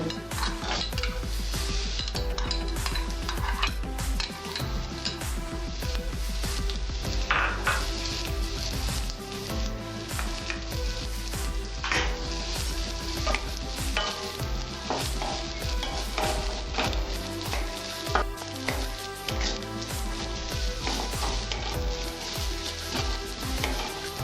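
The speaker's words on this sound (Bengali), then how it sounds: "এর মধ্যে আমি নারকেলটা ভেজে নেব।" Grated coconut frying in a pan for banana-flower chops, a continuous loud sizzle with constant stirring scrapes and utensil clatter against the pan.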